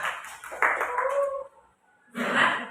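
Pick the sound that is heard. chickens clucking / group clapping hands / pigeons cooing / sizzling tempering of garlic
group clapping hands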